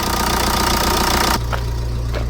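A Ford Transit Connect van engine idles close up, a steady low mechanical rumble with a faint ticking rhythm that drops to a quieter, smoother hum partway through.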